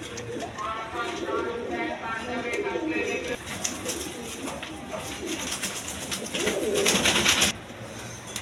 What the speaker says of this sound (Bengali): এখানে এক পেয়ার কবুতর আছে দেখেন